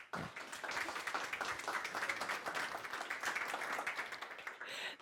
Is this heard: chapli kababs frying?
no